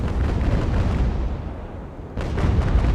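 Sailing-ship cannon fire in a naval battle game, aimed to shoot out an enemy ship's masts: heavy booming rumble with a brief lull, then a fresh burst of blasts, loud and without talk.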